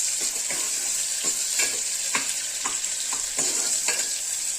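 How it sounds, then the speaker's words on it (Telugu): Chopped onion and chili frying in a pan for mutton curry, with a constant hissing sizzle and several soft stirring strokes at regular intervals, close and clear with no talking. "ఆనియన్, చిల్లీ వేస్తున్నాం. దీన్ని ఫ్రై చేసుకోవాలి."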